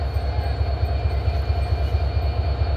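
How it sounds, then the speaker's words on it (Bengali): The Nilsagar Express, a Bangladeshi passenger train, rumbles steadily past at Abdulpur Junction, its rhythmic low wheel-and-rail clatter loud and continuous throughout, with no voices. "চিলাহাটির উদ্দেশ্যে ছেড়ে যাবে নীলসাগর এক্সপ্রেস"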